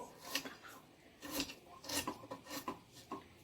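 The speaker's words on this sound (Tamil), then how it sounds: "இப்போ இருக்கிற வெங்காயத்தை எல்லாம் கட் பண்ணி எடுத்துப்போம்" A knife chops onions into small pieces on a board, making quick rhythmic cuts in short clustered bursts, close and fairly quiet, with no voices.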